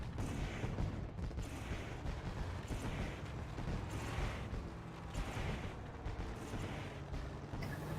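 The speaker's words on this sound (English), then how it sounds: "Fireworks going off, pumping up the fans" Fireworks go off over the Eldora dirt track in the iRacing video game, a sustained dense barrage of booms and crackling bursts that stays loud and steady for the whole stretch, with no voices.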